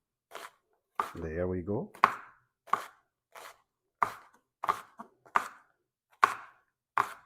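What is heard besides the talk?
knife cutting eggplant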